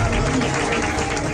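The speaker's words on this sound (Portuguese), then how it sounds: "Palmas." Congregation clapping during a lively church service, a dense, steady wash of many hands with music or crowd noise underneath, continuous and close.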